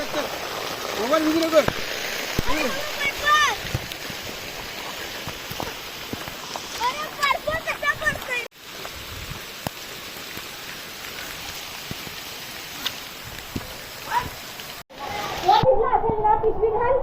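Summer hail and rain pour down in the Konkan region, a dense steady patter on surfaces with scattered sharper hits, while children talk and shout close by over the downpour.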